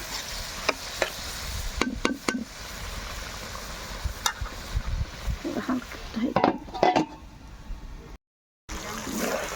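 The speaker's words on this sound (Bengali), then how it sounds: "এবার মাছগুলো দিয়ে দিলাম মাছটা ভালোভাবে কষিয়ে নেব" Fish sautéing in spiced masala in a pan gives a soft sizzle under scattered scrapes and clatter of stirring, with brief speech and a short silent gap near the end.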